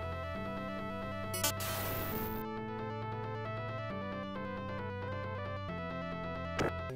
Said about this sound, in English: And Golden Axe looks and sounds like this.